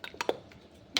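A spoon stirring vegetables and water in a pot, with a few close metallic clinks and scrapes against the pot, then a brief lull and a final sharp clink.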